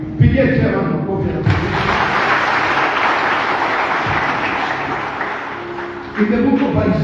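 A church congregation breaks into sustained applause, dense clapping for several seconds, with voices audible before and after it.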